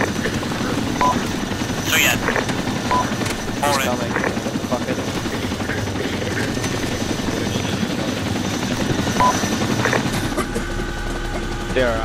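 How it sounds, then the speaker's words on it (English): A helicopter flies overhead with a steady, throbbing rotor drone that persists throughout, while people talk underneath. "That helicopter."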